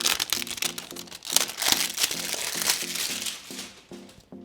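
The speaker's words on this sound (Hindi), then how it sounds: "पहले चल के बॉक्स के ऊपर लगा प्लास्टिक उतार लेते हैं।" Plastic shrink wrap peeled off a Xiaomi Mi A3 phone box, giving close, continuous crinkling and crackling with repeated short tearing pulls, alone without talk.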